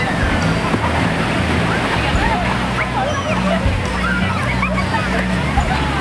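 Surf washing in at Gopalpur sea beach in Odisha, a steady continuous rush of breaking waves with a low hum and a faint murmur of distant voices underneath.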